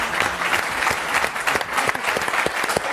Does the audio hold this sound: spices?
no